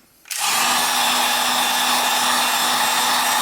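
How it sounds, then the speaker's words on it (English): After a brief quiet moment a heat gun switches on and blows a steady, loud roar of hot air onto Frog Lube paste, holding a constant whooshing tone close to the listener. "I'm using the heat gun to kind of speed up the shooting process"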